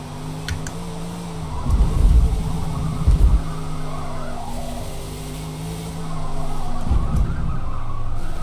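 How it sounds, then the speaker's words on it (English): Race car tires squealing in Forza Motorsport, sustained tonal screeches rising and falling over a loud engine drone through corners, close and continuous with no talk. "these tires really squeal a lot"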